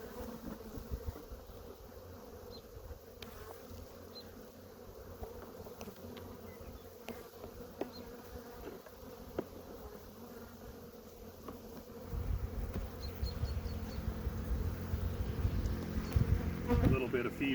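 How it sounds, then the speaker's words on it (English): Honey bees pour out of an opened hive during an inspection, a steady buzzing hum with scattered clicks and handling noises, swelling louder near the end. "You can always tell when you get a bee in there because they come out with a vengeance."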